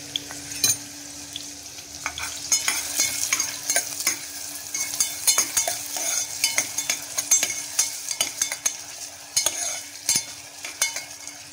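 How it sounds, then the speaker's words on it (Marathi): Onion, green chilli and spice paste fry in hot oil for a fish curry, giving a continuous close sizzle with frequent clicking stirring strokes against the pan. "थोडासा ब्राऊन होईपर्यंत आपण त्याला तेलात फ्राय करून घेऊया."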